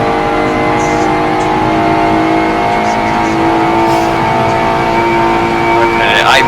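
A race car engine in a racing video game drones loud and steady with layered tonal harmonics throughout, rising slightly near the end.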